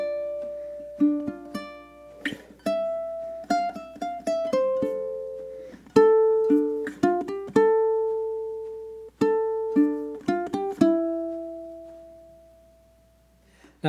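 A tune from Zelda played on ukulele with steadier timing, close and clean, plucked melody notes and short strummed chords in an even pattern, each phrase ringing and decaying before the next.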